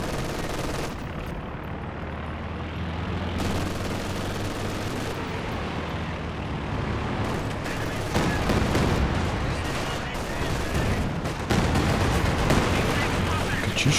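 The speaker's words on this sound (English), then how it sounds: "Katyusha barrage." Katyusha rocket barrage in a strategy video game, a dense continuous roll of launches and explosions with heavier impact bursts toward the end, all mixed with ongoing battle noise.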